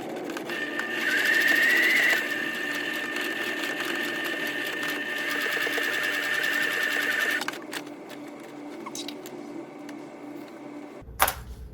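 A sewing machine runs a long continuous top stitch along a thick jacket, its motor droning steadily up close for several seconds before stopping, followed by quieter handling clicks.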